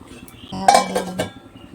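A metal lid lifted off a pot of cooking pulao, with a sharp clank and a few clattering knocks over about a second, then a brief ringing scrape.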